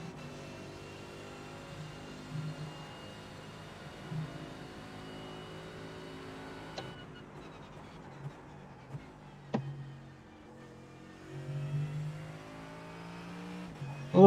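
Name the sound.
race car engine during throttle feather in iRacing video game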